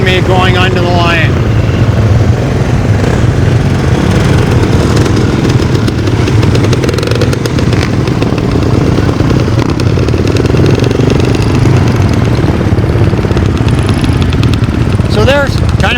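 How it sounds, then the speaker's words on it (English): Vintage motocross bikes idle and rev as they roll onto the starting line at a historic motorcycle race, their engines a loud, continuous drone with rising revs nearby while someone talks over them. "You can hear the bikes rolling around me going onto the line."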